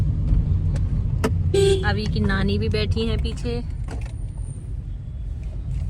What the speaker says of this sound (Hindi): अभी के मामा जी गाड़ी चला रहे हैं